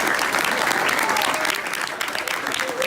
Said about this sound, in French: on va les applaudir tous les deux